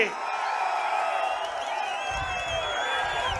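A large crowd at a political rally in Tenkasi cheers and whoops in a steady, sustained roar, with some whistling and no pauses, heard at a distance.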